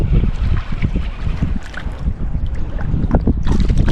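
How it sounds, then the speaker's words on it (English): Steady wind rushes and buffets across a kayak on Little Grassy Lake, with light water sloshing against the hull and a continuous roar close to the microphone, with no talking. "The wind just wants to spin me backwards."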